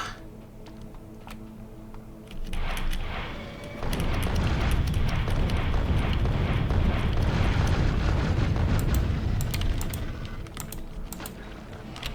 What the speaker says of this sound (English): Grenades on their own aren't doing that much anymore